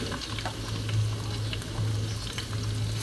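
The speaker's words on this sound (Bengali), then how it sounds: "পেঁয়াজটাকে হালকা একটু ভেজে দিতে হবে" Chopped onion frying lightly in oil on a stovetop for a fish cutlet, a continuous soft sizzle with a low steady hum beneath and faint intermittent crackles, no voices.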